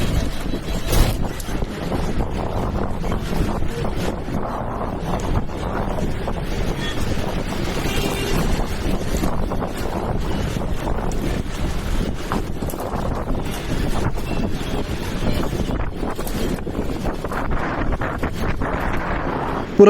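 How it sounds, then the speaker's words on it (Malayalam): Cool wind rushes steadily into a moving bus on a hill route near Parunthumpara, Kuttikkanam, a constant broadband roar with engine rumble beneath, loud and unbroken throughout. "നമ്മുടെ വണ്ടിക്കകത്തേക്ക് ചെറിയൊരു തണുത്ത കാറ്റ് അടിച്ചു കയറുന്നുണ്ട്"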